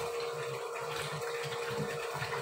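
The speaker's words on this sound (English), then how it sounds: "the pump starts working" A well water pump runs steadily, giving a continuous mechanical hum with a rushing flow of water throughout, close and constant with no voices.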